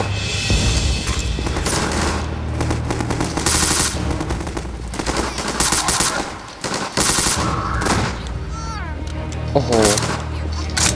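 Gunfire in Garry's Mod sandbox play: sustained automatic bursts and single shots rattle almost nonstop at close range, loud throughout, with talk and other game sounds layered in.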